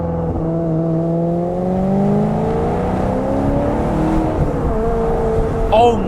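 Maserati GranTurismo S with its 4.7 engine revs hard, the pitch climbing and then holding in a loud, throaty drone, with a brief sharp sound near the end.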